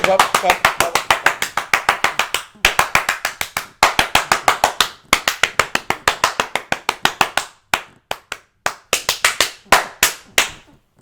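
Sharp, close hand claps in quick rhythmic bursts, loud and crisp, broken by short pauses between runs of even beats.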